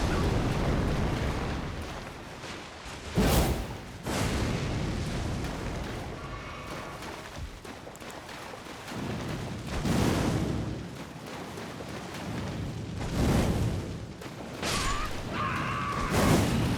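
Heavy booming blasts from a mortar in Elden Ring combat, several loud, broad explosions spaced a few seconds apart over a rumbling, windy game backdrop, with no talking.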